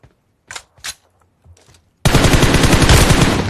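Automatic gunfire in the video game PUBG Mobile erupts into a loud, dense, continuous burst of rapid shots, preceded by a few quieter, scattered clicks and thumps.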